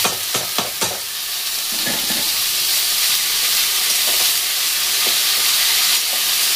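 Chopped punka or khesla greens hit a hot pan and fry, a few sharp scraping stirs at the start followed by a loud, steady sizzle and hiss up close.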